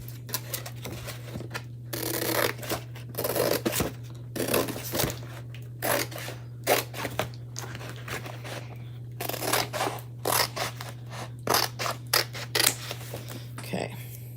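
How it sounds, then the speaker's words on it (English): Scissors cut along the line of a paper pattern for a pumpkin patch chalk craft kit, giving repeated short snipping and rustling bursts at close range over a steady low hum, with no talk. "So we're just going to cut that on the line."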